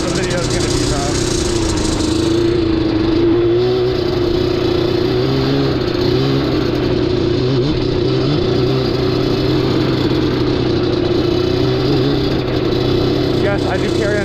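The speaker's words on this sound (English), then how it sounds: "Muddy ride on my Yamaha Banshee." A Yamaha Banshee ATV engine runs steadily and loudly while riding through mud, a continuous close drone with slight pitch swells.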